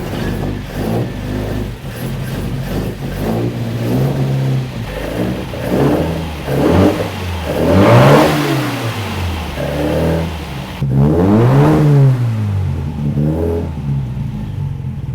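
A small tuned car engine, in a car offered as cabriolet and coupé, starts up and is revved repeatedly in rising and falling sweeps, loud and close, with an idle rumble between blips.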